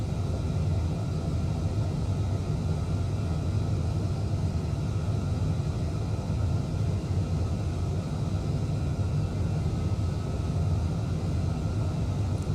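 Boeing 787 airliner in Microsoft Flight Simulator accelerating down the runway on its takeoff roll, a steady loud low engine roar and rumble holding even throughout without talk.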